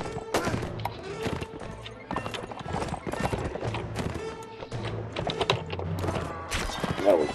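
Horse hooves galloping in Mount and Blade Warband, rapid clip-clop beats with a whinny near the end, mixed with thuds and battle noise, loud and close.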